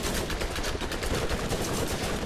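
An incendiary fire gun in Borderlands fires rapidly and loudly against bandits, a continuous stream of shots packed closely together from start to finish.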